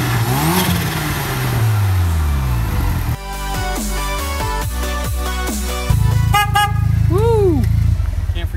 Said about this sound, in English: Get the horn. Gotta have that horn